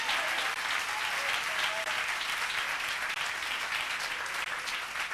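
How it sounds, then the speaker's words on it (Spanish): An audience applauds steadily throughout, with dense, even clapping at a constant moderate level that neither builds nor fades. "Por lo menos cooperen conmigo con un aplauso."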